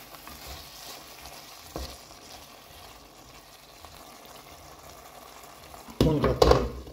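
Shrimp cooking in a pan as coriander and dill are mixed in gives a quiet, steady sizzle, and a louder burst of stirring and scraping comes near the end.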